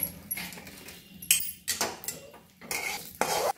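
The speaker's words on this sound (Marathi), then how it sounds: "आता खसखस घेतले बघा, एक पुडी घेतल्या, भाजून घेऊया" Poppy seeds dry-roasting in a pan, stirred with sharp scraping and clattering strokes of utensil on metal, close and irregular over a short stretch.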